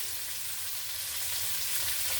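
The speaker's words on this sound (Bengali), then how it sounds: "যতক্ষণ সেখানে আলুটা ভাজা হচ্ছে" Potato frying in oil gives a steady, close sizzle with a bright hiss that holds evenly throughout, and no one talks over it.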